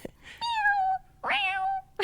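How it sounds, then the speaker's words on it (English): A house cat gives two clear, close meows in quick succession, each rising then falling, with a brief pause between them. "My cat meow."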